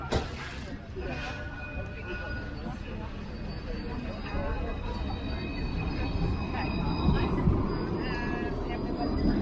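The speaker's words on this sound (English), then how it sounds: "A lot of these trains going by" A train passes through Dublin, a broad rumble with faint metallic squeals swelling steadily over several seconds, heard at moderate distance in an outdoor city setting.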